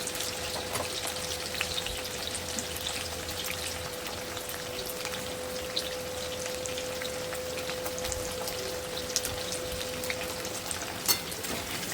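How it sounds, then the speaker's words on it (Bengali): Pieces of raw banana fry in oil for shukto, a continuous soft, rain-like sizzle with faint pops and a steady hum, no voices. "এবার এইগুলোকে ভালো করে ভেজে নেব।"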